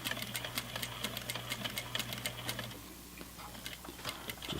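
A sewing machine stitches across a fabric seam with a quick, even ticking of the needle over a low motor hum that cuts off partway, leaving a few scattered faint clicks; quiet overall.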